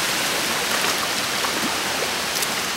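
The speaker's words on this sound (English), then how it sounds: "Cool waterfalls." Jungle waterfalls near Luang Prabang, Laos, a steady loud rush of falling water filling the whole span with even hiss and no pauses or voices.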